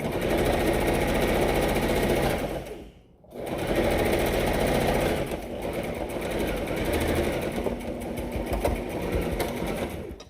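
A sewing machine runs a back stitch while making a fabric bow, a fast continuous mechanical whirr that stops briefly, then resumes steadily, close and loud.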